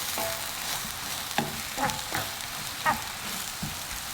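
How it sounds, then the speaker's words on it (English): Fried rice with beef stock frying in a pan makes a steady bright sizzle, broken by a few clacks and scrapes of stirring, close by and alone without talk. "Right, so that's all cooking down now nicely."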